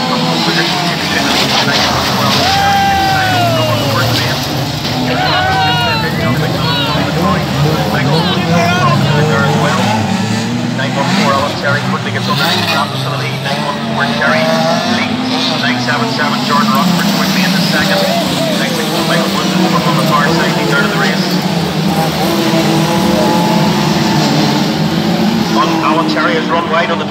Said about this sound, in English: Charlie Memorial, Heat 1. On their way